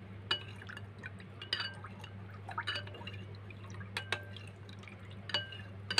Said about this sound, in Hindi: ये देखिए मैं ठंडा पानी ऐड कर रहा हूँ 2 कप।